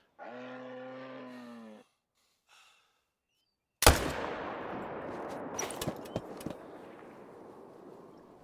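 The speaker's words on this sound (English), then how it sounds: "I'm gonna shoot that tree. Shoot below it." A single loud, close rifle shot rings out during a moose hunt in the New England mountains, with a long rolling echo afterward, following a sustained animal-like moan and a few seconds of near silence.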